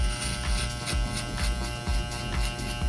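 Electric hair clippers buzz steadily up close while cutting the first guideline of a bald skin fade, with short repeated strokes that give a gentle rhythmic pulse to the hum.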